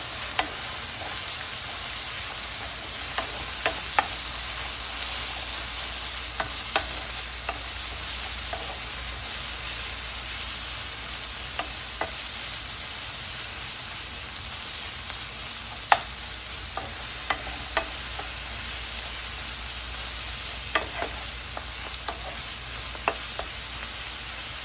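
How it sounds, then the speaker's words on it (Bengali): Marinated shrimp fry in a pan with a steady, close sizzle, broken by scattered clicks and scrapes of stirring. No one speaks. "এবারে আমি চিংড়িগুলো ভাজি করতেছি"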